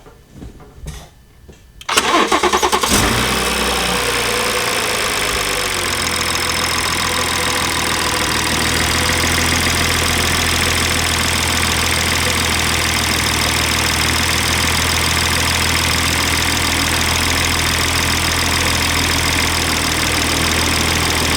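A BMW G30 with a B58 engine starts up just after a Daw Hypercore turbo install: a brief crank, then the engine catches and settles into a loud, steady idle that runs on alone.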